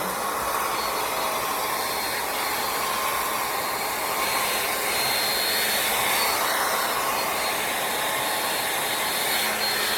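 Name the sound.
heat gun shrinking wrap on a boat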